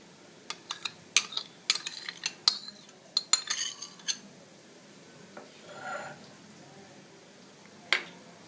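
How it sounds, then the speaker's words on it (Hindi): A metal spoon clinks repeatedly against a pot as yogurt is added to raw beef for haleem, sharp close taps in quick bursts followed by a soft scrape and one final clink. "बीफ में हम सबसे पहले दही ऐड करेंगे।"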